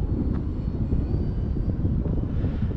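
An E-flite Valiant RC airplane flies by, its electric motor and propeller making a steady, fairly loud drone with buffeting wind noise throughout, and no talk.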